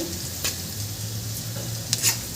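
Goda masala and chili powder being stirred into methi as it fries for Marathi methi aalan, a soft steady sizzle with a few faint spoon scrapes against the pan.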